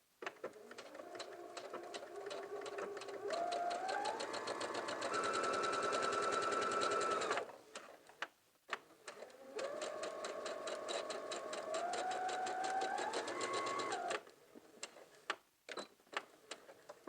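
Sewing machine stitching a folded quarter-inch hem on a lined pencil skirt, a steady close rapid whirr in two long runs with a short pause and clicks between, the pitch rising as the speed builds.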